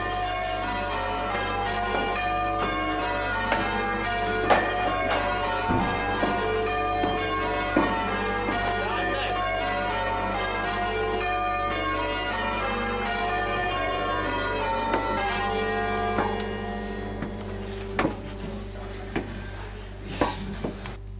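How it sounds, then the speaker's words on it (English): Six church bells ring in a steady sequence of overlapping, resonant strikes during bell-ringing practice, loud and close, with long ringing tones layering over one another. "We've 6 bells here, and they ring."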